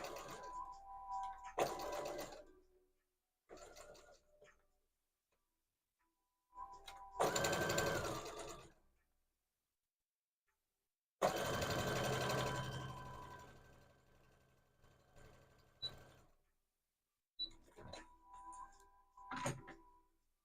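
Sewing machine stitching in short separate bursts of steady whirring, close and clear, with quiet pauses between runs and no talk.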